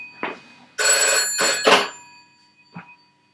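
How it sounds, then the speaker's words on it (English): A house telephone rings in loud electronic bursts, two or three close together in the middle of the clip, followed by a short faint tail and silence. "Nobody rings this house phone."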